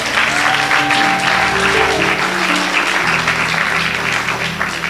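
Dense, steady audience applause from a large crowd at a church teaching conference, loud and continuous throughout with no break.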